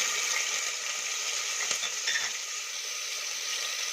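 Onion sizzling steadily in a pan for tomato biryani, a constant close frying hiss with faint stirring clinks and no talk.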